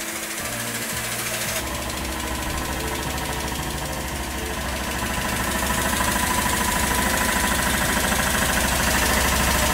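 Single-flute Superfly fly cutter milling tool steel vise inserts, producing a steady, loud, dense interrupted-cut machining drone with rapid beating that grows slightly louder partway through, no talk over it.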